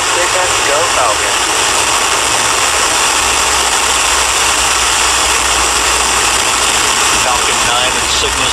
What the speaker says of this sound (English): Ignition, engines full power, and liftoff.